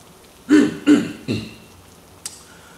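A person clears their throat two or three times in short, low bursts, followed by a faint click, with soft background hiss.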